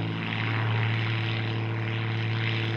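A Sbach 342 aerobatic two-seat propeller plane flies past with a loud, steady engine and propeller roar that holds at an even level for a few seconds.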